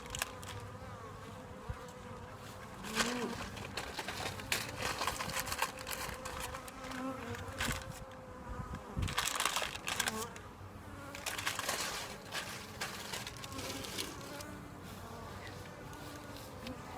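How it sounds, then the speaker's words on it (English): Bees buzz steadily around an open beehive in spring, a dense close hum with rising swells and scattered clicks from handling the hive frames as a pollen patty goes in. "little bee, just defending and protecting its home"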